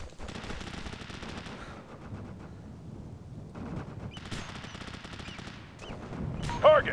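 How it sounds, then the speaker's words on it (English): Sustained automatic gunfire from Operation Flashpoint: Dragon Rising, dense bursts of rifle and machine-gun shots rattling continuously with a few louder cracks near the end, no voices. "Shots fired."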